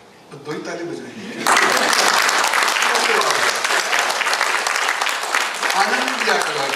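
An audience at a talk breaks into loud applause after a brief spoken line, and the clapping carries on steadily, close and dense, until the end, with a voice returning faintly near the close.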